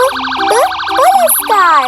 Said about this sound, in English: P for police car